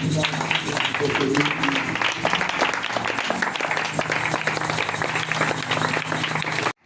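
A congregation at a church service applauds and cheers for Jesus Christ, a dense, steady wash of clapping and voices that holds loud and close for about seven seconds before stopping abruptly.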